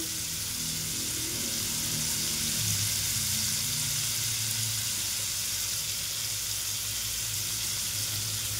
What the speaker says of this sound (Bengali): নুন হলুদ দিয়ে এটাকে ভালো করে একটু ভেজে নেব।